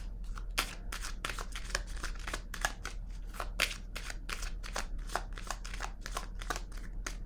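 Tarot cards are shuffled and handled at close range in a rapid run of soft papery snaps and riffles. The sound is quiet, continuous and busy, with a low steady hum underneath.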